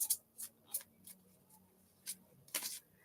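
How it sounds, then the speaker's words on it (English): Tarot cards being shuffled by hand, a series of short crisp riffling bursts in irregular rhythm, close and fairly quiet, with a brief louder flurry near the end and no talking. "Make sure I'm shuffling this good."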